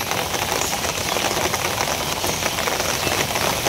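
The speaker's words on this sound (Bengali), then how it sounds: "এই যে আবার বৃষ্টি শুরু হলো" Rain falling again outdoors in a Bangladeshi setting, a continuous dense patter on surfaces, steady and fairly loud throughout, with a faint engine hum underneath and no talk.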